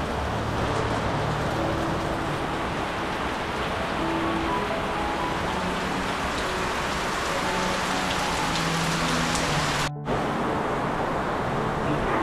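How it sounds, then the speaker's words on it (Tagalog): Heavy storm rain pours steadily onto a flooded street, a loud, unbroken hiss of drops on surfaces that continues without pause, with only a brief dropout near the end. "Ano lang, malakas lang na ulan."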